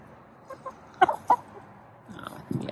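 Backyard chickens clucking in a few short bursts, mostly in the first half, then a rougher scuffling and clucking toward the end, moderately close with no talk.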